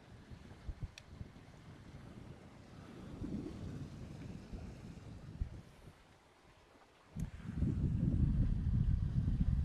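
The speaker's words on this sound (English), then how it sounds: "It's just like just cruising along, sailing." Hanse 508 sailboat cruising under sail, with steady low water rush and wind buffeting the microphone, a brief lull, then a louder surge of hull wash and wind near the end.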